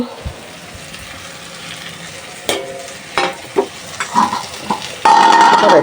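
A curry of dried kachki fish with jackfruit seeds cooks in a pan under a low sizzle, broken by several sharp scraping and clattering strokes of stirring and a louder burst of hissing near the end.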